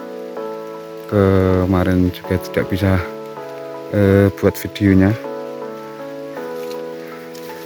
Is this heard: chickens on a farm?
no